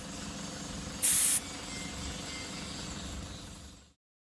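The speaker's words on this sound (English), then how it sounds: "letting the tyres down before we hit the tracks" Compressed air hissing from a 4WD tyre being let down before a bush track run, a loud sharp burst of about a third of a second standing out over steady outdoor rumble and background noise.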